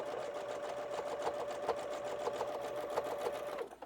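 A sewing machine runs steadily for several seconds, stitching along the edge of a quilted wall hanging. The motor hum is close and continuous with a fast, even needle rhythm, then stops abruptly near the end. No talk.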